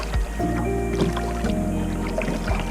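Steady canoe paddle strokes dip and pull through water with soft splashes and gurgles, close by, no talking.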